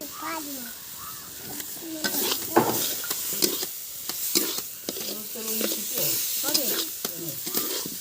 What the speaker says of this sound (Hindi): वो सभी डालने के बाद दोस्तों हमने सभी को अच्छे से चलाए